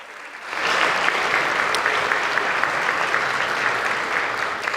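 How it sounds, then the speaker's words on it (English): Audience applause after a high school full band ensemble's spring concert performance, a dense, steady wash of clapping that swells in quickly and holds strong throughout. "Give them a round of applause"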